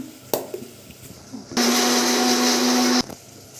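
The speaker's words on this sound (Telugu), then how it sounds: "దీన్ని అయితే మనం గ్రేవీగా మిక్సీ పట్టేసుకుందాం" A mixer grinder blends tomatoes and green chillies into a gravy, a loud steady motor whine that runs for about a second and a half and then stops abruptly, with a few clicks and knocks from handling before and after.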